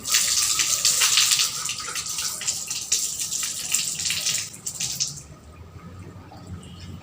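Water runs from a tap as hands are rinsed for wudu, making a steady splashing rush for about five seconds that then stops, leaving a quiet room tone.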